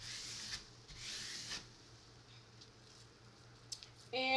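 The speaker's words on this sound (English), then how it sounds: "if you have your squeegee with you," A squeegee pressed across a design on a Dollar Tree carpet mat makes a few faint, brief scraping rubs, then a short louder rustle near the end.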